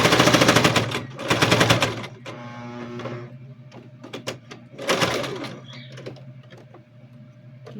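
Sewing machine stitching a thick seam on a child's backpack: two quick, loud motor-driven bursts of rapid needle clatter, a softer stretch of slower stitching, then another short burst with light handling noises in between.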